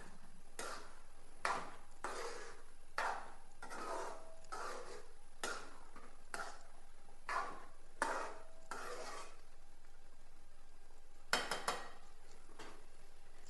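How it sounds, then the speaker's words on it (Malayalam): A spoon stirs curry with coriander leaves through a pan, scraping in a steady series of distinct strokes close by, with a brief pause and then two more quick scrapes near the end. "ഇത് കുറച്ച് മല്ലിയില ഇത് നന്നായിട്ട് ഇളക്കുക"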